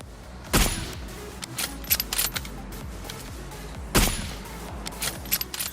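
Sniper rifle shots from a Kar98 in a battle royale video game, two sharp loud cracks a few seconds apart with smaller clicks and game effects in between and no talk.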